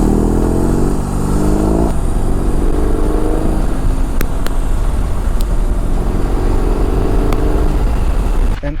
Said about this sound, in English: thanks to the Boxer 1800cc engine, that is massive considering how much is each cylinder